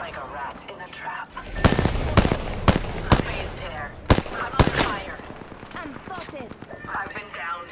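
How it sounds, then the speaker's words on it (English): Enemy gunfire in a shooter video game: a rapid series of loud, sharp shots in bursts, some close and cracking, others quicker, with a voice speaking in between. "They're shooting at me."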